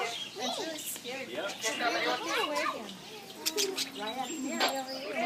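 Wild budgies chirp and chatter nonstop while being fed, a busy flurry of high warbling calls close by, mixed with people talking throughout.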